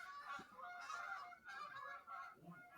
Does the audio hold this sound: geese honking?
yes